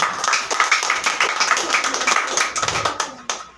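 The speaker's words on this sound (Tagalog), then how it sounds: "Minsan pa, palakpakan po natin ating Diyos na buhay." Church congregation clapping for God, a continuous patter of many hands beating in loose rhythm, moderately close, with voices mixed in.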